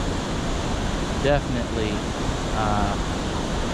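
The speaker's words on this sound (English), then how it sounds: "I'm hoping the noise of the waterfall isn't too much." Waterfall at Valley Falls State Park in Marion County, West Virginia, where the river runs swift, giving a steady broadband rush throughout while a person speaks briefly over it.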